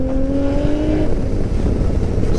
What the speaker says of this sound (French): j'adore le bruit de ce 6 cylindres.